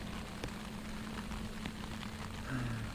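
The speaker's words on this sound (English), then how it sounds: "As you can hear, it's raining again." Steady rain patters and hisses on a surface nearby at a campsite on the Great Glen Way, a continuous wash of sound with a faint low hum underneath.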